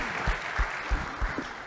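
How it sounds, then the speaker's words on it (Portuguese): Audience clapping for pastor Karen at a church event, a brief burst of applause with a few distinct hand claps standing out near the listener. "Uma salva de palmas para a pastora Karen."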